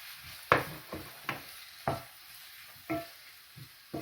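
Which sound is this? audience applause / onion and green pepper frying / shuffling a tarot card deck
onion and green pepper frying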